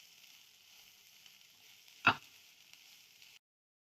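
Dry spices and coriander roast in hot oil for besan bhurji, giving a faint, steady hiss with one short, sharp sizzle burst partway through before the sound cuts off.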